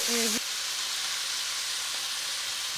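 A steak sears in a hot pan as a steady, soft sizzling hiss. A brief tonal sound opens it before the frying noise continues alone at moderate level.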